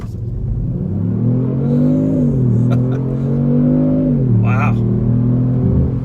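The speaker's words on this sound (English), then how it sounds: "We're gonna accelerate a little bit here." A 2018 Kia Stinger GT with its twin-turbo 365-horsepower engine accelerates, a steady rising engine drone with shifting pitch, heard from inside the cabin while a person talks over it.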